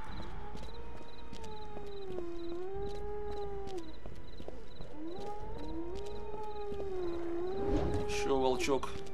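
A wolf in Hellboy: The Science of Evil howls in long, wavering, siren-like tones that rise and fall, repeating several times over steady background noise, ending in a rougher snarling burst.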